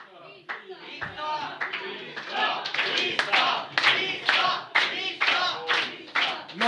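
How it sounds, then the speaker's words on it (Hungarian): An audience claps at an unplugged concert of a Hungarian band, scattered claps building into steady applause with voices talking over it. "Viktor, most tapsoltak vissza"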